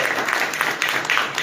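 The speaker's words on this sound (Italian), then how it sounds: "un applauso anche per lui" An audience claps in steady applause at an outdoor Italian political gathering, a dense patter of hands heard close for a brief moment.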